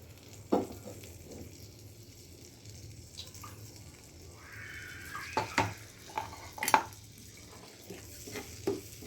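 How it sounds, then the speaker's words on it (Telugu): Maida flour fries in butter in a pan for a white sauce, making a soft, low sizzle. A spoon scrapes and clinks against the pan now and then, with several sharper knocks near the end. "ఈ మైదా బ్రౌన్ అయ్యే వరకు కొంచెం ఫ్రై చేసుకోవాలండి"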